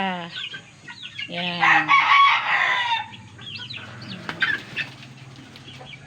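Chicks being raised as young gamefowl stags peep and cluck near a speaker, with bursts of chirping rising above the talk.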